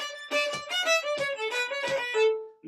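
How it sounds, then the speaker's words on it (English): A Quebec/Acadian fiddle plays a short phrase with complicated ghost bowing, quick separate bow strokes pulsing across bright sustained notes, close and alone. "There is a kind of more complicated bowing,"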